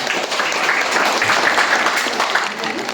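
A group applauds a student for her handwriting, probably in a classroom: a dense, even patter of clapping that runs for a few seconds with voices faintly mixed in.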